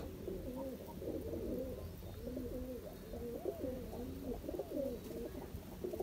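Pigeons kept by a fancier near the border in Jammu and Kashmir, India, coo softly in repeated, overlapping throaty phrases. The birds are fairly faint against a low background rumble.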